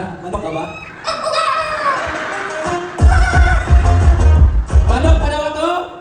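A person imitates a chicken with gobbling, clucking vocal bursts amid a lively crowd, with laughter and talk around the calls at a comedy show.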